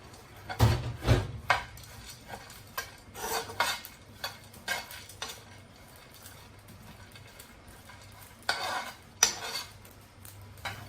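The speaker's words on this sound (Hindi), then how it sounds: "अब बादाम रोस्ट कर लेंगे।" Almonds roast in about half a tablespoon of melted ghee in a frying pan. A utensil clinks and scrapes against the pan in sharp, irregular knocks, with quiet gaps between them.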